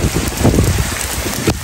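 Steady, close rain pattering on a surface, a dense wash of drops with no pauses.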